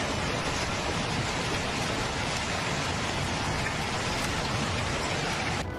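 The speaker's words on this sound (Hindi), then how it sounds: "तूफान के साथ ही ओले भी गिरे हैं" A storm in Austria pours heavy hail and rain in a dense, continuous roar that drums loudly and evenly throughout, with no voices.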